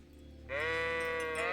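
A sheep bleats once in the video game Kingdom Come Deliverance, a loud, close, wavering cry lasting about a second that starts after a short stretch of quiet game ambience.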